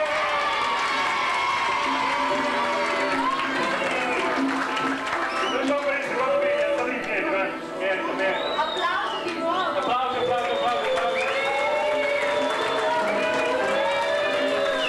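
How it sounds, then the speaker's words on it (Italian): A school event audience in Italy claps and cheers for a winning second-year middle school nativity video, dense continuous applause with shouting voices and crowd chatter throughout, staying loud and steady with a brief dip midway. "Applausi di nuovo."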